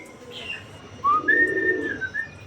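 Pigeons kept as pets make a low cooing murmur alongside brief whistling bird calls, close by and fairly clear for a couple of seconds.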